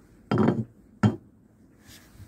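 Hammer blows on the head of a chisel while stripping old teak decking from a boat, two sharp metallic strikes about three quarters of a second apart, then a faint clink, in a quiet space.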